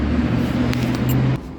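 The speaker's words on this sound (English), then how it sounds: "Stupid people trucks driving by" A heavy vehicle rumbles past nearby with a low engine drone that cuts off abruptly near the end.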